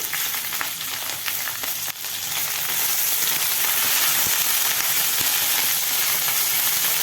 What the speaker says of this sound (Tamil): அந்த வெண்டைக்காய் சாம்பாருக்கு தான் நான் இப்போது வெண்டைக்காயை வதக்க போகிறேன்.